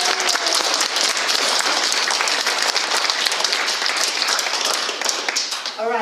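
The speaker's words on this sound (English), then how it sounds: "so let's clap" A church congregation claps together during a Sunday service, loud sustained applause lasting several seconds before fading at the end.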